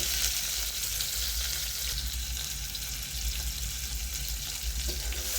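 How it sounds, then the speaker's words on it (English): Steady sizzling of onions frying in a pan, a continuous hiss with no talking, close and fairly quiet. "When I'm frying the onions, I put the salt straight away"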